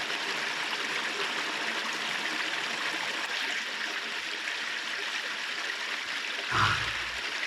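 A small, cold stream on the wild Isle of Jura flows with a steady, close, full-bodied rush of water, continuous throughout, with a brief gurgling plop near the end.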